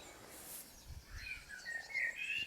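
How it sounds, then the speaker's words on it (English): Near a garden pond at a Northumberland vineyard, a frog gives faint, short croaks and chirps against quiet outdoor background noise, nearby but soft. "I can hear a frog croaking."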